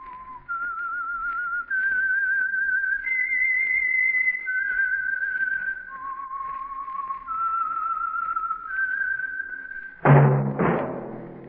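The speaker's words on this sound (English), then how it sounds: "That whistle is your signal for the Signal Oil Program, The Whistler." A lone human whistler performs the eerie theme melody of the old-time radio show The Whistler, a slow wandering tune of sustained clear notes, up close and alone, ending in a sudden loud burst.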